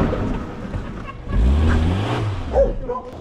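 A car revs and accelerates hard on a closed driving course, the engine note rising loud and close over about three seconds, alone without talk.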